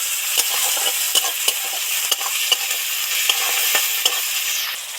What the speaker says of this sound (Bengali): এবার টমেটো কুচিটা তুলে দেব টমেটো কুচিটা পেঁয়াজটা ভাজা ভাজা হয়ে এলে